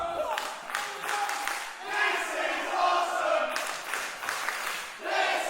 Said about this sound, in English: You can't disagree with the crowd here on Wednesday Night Wrestling.